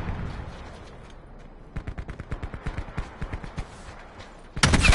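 Gunfire in the Black Ops 4 Blackout battle royale game: a rapid run of sharp shots cracks out in an uneven burst over a low rumble, followed by a louder blast at the end.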